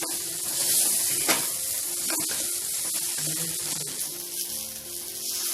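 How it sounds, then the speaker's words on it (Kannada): Continuous crackling sizzle of broken wheat roasting in oil in a pan, fairly steady with a few sharper pops, and no voices. "ನೀರಿನ ಅಂಶ ಹೋಗ್ತಿದ್ದಂಗೆ ಎಣ್ಣೆನಲ್ಲಿ ಹುರ್ಕೊಳ್ಳುತ್ತದೆ"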